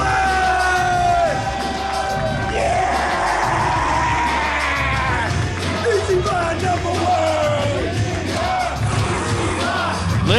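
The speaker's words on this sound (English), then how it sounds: "Listen to that crowd" Wrestling crowd at an independent show roaring, whooping and chanting continuously and loudly, with shouted voices and a commentator talking over the din.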